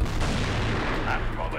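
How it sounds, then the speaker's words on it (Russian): Fragmentation grenade blast in the video game CrossFire, a loud close boom with a dense rumbling tail that fills the whole short moment. "Ложись, граната! Осколочная."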